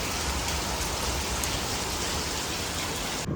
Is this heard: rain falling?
yes